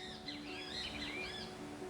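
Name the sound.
birds chirping outdoors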